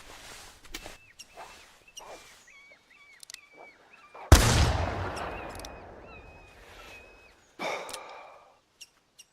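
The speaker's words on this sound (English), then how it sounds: "I love the sound of that 44." A .44 rifle fires in the video game theHunter Classic during a wolf pack hunt, one sharp, loud shot with a long fading tail, followed by a second, weaker blast; scattered birdlike calls and small sounds come before.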